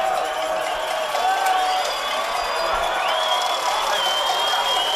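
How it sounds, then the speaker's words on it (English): A high school football crowd at a CIF quarterfinal game stands and cheers on the defense on fourth down, a steady roar with whistles and whoops. A commentator talks over it. "Crowd on its feet to root on the defense."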